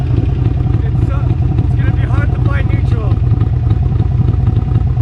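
A Harley-Davidson Iron 883 motorcycle rumbles loudly and steadily up close while gears are shifted, with someone talking over the engine.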